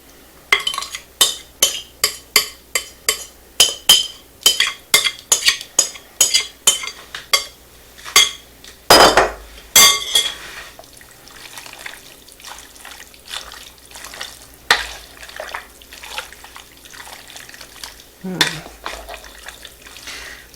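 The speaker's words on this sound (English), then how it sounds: "So then I'm just going to add this in and mix it all up" Homemade sausage ingredients being mixed by hand in a bowl, with a rapid run of wet slapping, squelching strokes up front, then looser clinks and scrapes trailing off, close and without talk.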